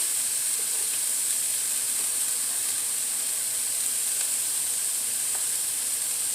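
Tofu sizzles steadily in a hot pan, a constant bright hiss of frying with faint scattered pops, close and unbroken throughout with no talking.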